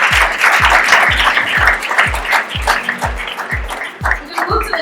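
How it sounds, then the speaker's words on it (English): An audience at a panel event applauds with a dense, loud wash of clapping. A regular thumping beat repeats underneath it. "let's give a round of applause for us"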